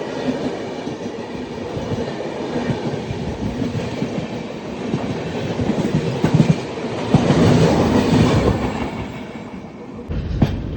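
The Mangala Express passenger train, hauled by a conventional locomotive between New Delhi and Agra, rumbles steadily along the rails with rhythmic clickety-clack from the wheels, swelling louder midway and then easing off, with no voices.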